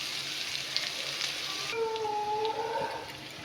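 Flattened rice (chira) frying in a pan for a sweetish chire pulao, giving a continuous, moderately loud sizzle with a brief tonal whine partway through and no talking.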